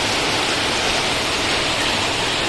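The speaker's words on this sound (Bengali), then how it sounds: "দেখো অবস্থা দেখো কেমন বৃষ্টি হচ্ছে" Heavy rain falls steadily in a courtyard, a loud, dense, unbroken hiss with no pauses or distinct drops.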